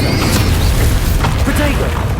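Bombarda blasting spell in the game Hogwarts Legacy, a loud booming burst over dense game sound and music with mechanical clatter, while a voice speaks over it.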